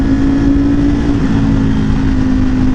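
A Ducati Panigale V4 motorcycle exhaust drones steadily and loudly under throttle in a tunnel, a low, throaty hum echoing in the enclosed space, without clear rises in pitch.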